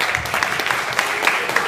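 Audience applause at a keynote talk, a short burst of steady clapping from a crowd, moderately loud and continuous.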